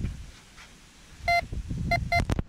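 A metal detector gives a few sharp electronic beeps on the beach over sand being dug with a stick, the tones short and clustered near the end above low rustling.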